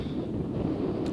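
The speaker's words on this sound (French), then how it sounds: "Là, j'ai plein de vent, il y a plein de vent" Strong wind buffets the microphone on the Finistère coast in northern Brittany, a steady low roaring rush with a faint hint of surf beneath, continuous and close throughout.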